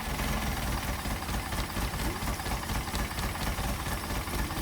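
A vintage car engine with Solex carburetors, throttle linkage disconnected so each carburetor runs on its own, idles low and a little rough, a steady broadband rumble with uneven pulsing throughout, close and continuous with no talk.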